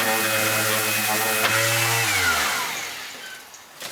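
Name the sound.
sander smoothing veneer filler paste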